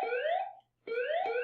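An electronic alarm sound effect in a stock market commentary, two loud rising-and-falling tonal wails separated by a brief gap, alone with no talk.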